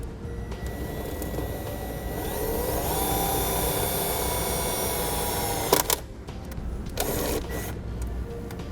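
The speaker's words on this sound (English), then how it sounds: "We can use a 1/4 inch bit driver to create our hole." A power drill with a 1/4 inch bit driver runs steadily while driving a self-tapping screw into metal on a 2017 Chevrolet Silverado during a braking system install, a loud continuous whir with a few sharp clicks near the end.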